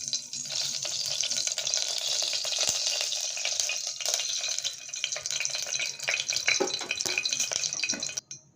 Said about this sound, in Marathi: कुकरमध्ये तेल टाकून घेते